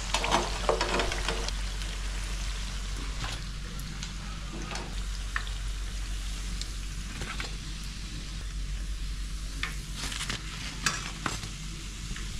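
Vadas deep-fry in hot oil with a constant close bubbling sizzle, punctuated by occasional clinks and stirring sounds; no talk.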